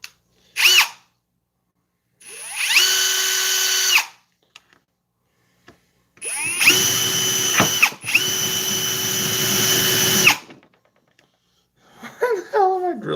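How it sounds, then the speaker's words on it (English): A power drill whines in two long bursts, one short and one longer, drilling into a dinner table, with some rattling between runs and a few brief knocks. "Drilling on my dinner table."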